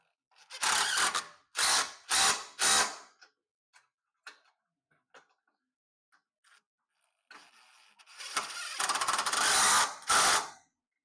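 Bolts being tightened with a ratcheting tool during a 2-inch aluminum block lift install on a 1989-1998 Geo Tracker: three close, loud bursts of mechanical whirring, a few faint clicks, then a longer burst with a final short one.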